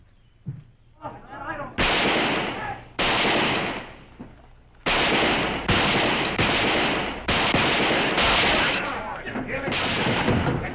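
Loud, close gunshots in a western movie gunfight, about eight sharp blasts in an irregular volley, each ringing out and decaying, with faint voices in the gaps.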